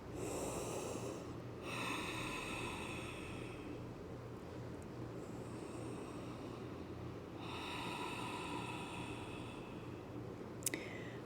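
Slow deep breathing during a vinyasa yoga flow, two long audible breaths with hissy airflow over steady background hum, fairly faint and without speech.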